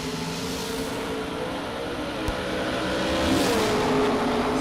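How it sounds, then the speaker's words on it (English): A fast little Miata drag car fitted with wheelie bars roars down the strip at a drag race in Venus, Texas, its steady engine drone rising slightly as it accelerates, heard from a distance without talk. "it's a fast little Miata. It's got wheelie bars."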